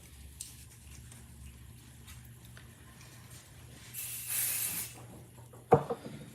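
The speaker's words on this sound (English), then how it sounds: "I spray a thin layer of this on the back of my stencils." A single short hissing burst of Pixie Spray adhesive sprayed onto the back of paper stencils, close and fairly loud, followed by a sharp tap and light handling sounds in a quiet room.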